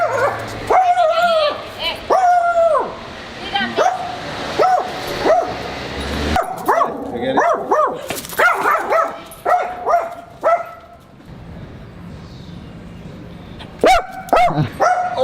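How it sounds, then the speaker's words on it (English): A dog barks repeatedly in short bursts and lets out whimpers and yips, loud and close, inside a building that houses a cafe, with people talking in the background. "I think Masood's afraid of the dog."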